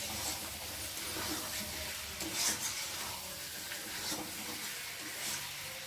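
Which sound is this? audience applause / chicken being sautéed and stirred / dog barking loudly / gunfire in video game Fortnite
chicken being sautéed and stirred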